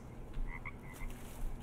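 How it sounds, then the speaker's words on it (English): A frog croaks in the jungle of the survival video game Green Hell, a short series of soft, quick chirping croaks over a quiet low ambient background. "Oh boy, I hear a frog."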